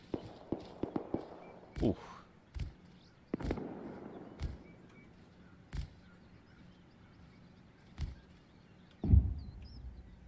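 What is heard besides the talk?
gunshots in the video game Rust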